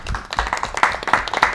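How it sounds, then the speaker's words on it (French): Studio audience applause on a French car and motorbike TV show, a short burst of brisk, close hand clapping from a small crowd. "sous vos applaudissements"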